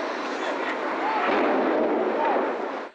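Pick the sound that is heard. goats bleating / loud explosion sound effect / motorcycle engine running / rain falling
loud explosion sound effect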